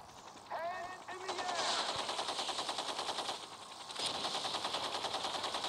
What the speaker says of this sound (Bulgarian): Но имам само ето и един пистолет.